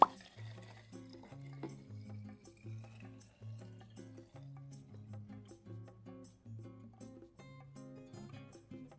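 Pure acetone pouring into a pump dispenser bottle, a soft trickling liquid stream with faint gurgles, quiet and close, under a low repeating background music bed.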